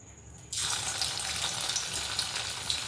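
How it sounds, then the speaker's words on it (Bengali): Chicken pakora coated in rice flour dropped into hot oil, bursting into a loud, steady sizzle after a quiet moment and crackling continuously to the end. "তেলটা গরম হয়ে গেছে চলে দিয়ে দিই"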